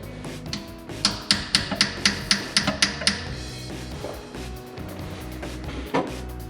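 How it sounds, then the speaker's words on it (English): Light hammer taps seating a rear main seal around the crankshaft of a Ford 289 engine, about eight sharp evenly spaced knocks in quick succession, then quieter shop sounds and one more faint tap. "we're just gonna just lightly just tap it. And that's going to continue to drive it around the crankshaft into position."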